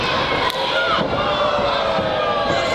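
Crowd at a live GNW wrestling event in Pembroke cheering and shouting steadily throughout, a dense, loud roar of fans with scattered louder yells.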